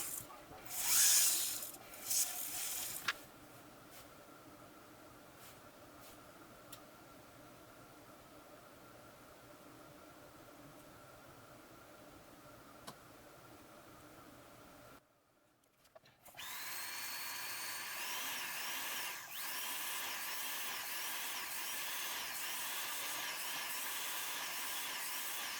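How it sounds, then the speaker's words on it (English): Silver ring being worked with a Fordham hand-held power sander, a brief loud burst at the start, then a long faint whir, and after a short silence a steady, louder grinding hiss that runs to the end. "You've been watching me use my Fordham hand sander"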